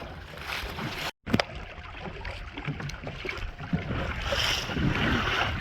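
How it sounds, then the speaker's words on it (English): Wind and water rush around a small boat bouncing on choppy water near the entrance to Shark Creek, with hull slaps and splashes over constant wind noise and a brief dropout. "definitely in a small boat we're bouncing around, but it's fine."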